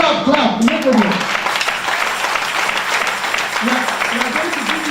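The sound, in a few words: congregation clapping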